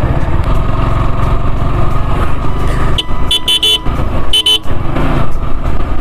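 Traffic on a narrow road rumbles steadily, with several short horn toots near the middle and one more toot shortly after, close and loud over the engine noise, heard from a passing Yamaha R15 V4 motorcycle.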